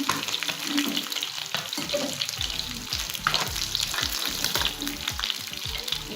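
Fried tilapia fish is sautéed in a pan: loud close frying sizzle with scraping and stirring of a spatula throughout, and no speech.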